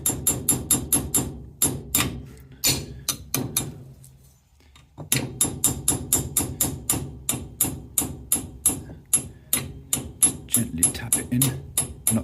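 A zone valve part on a heating system is tapped in with a tool: a rapid series of sharp metallic knocks in quick bursts, a brief pause, then more steady repeated taps, close and distinct.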